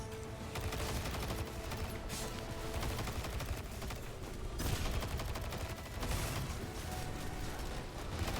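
A gun fires in Destiny 2 in steady, continuous rapid shots lasting throughout, loud and close, with mechanical clatter under it and no talking.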